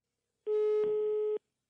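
A single steady electronic phone tone from the Roblox Brookhaven game, one flat beep just under a second long, rings unanswered in otherwise silent surroundings.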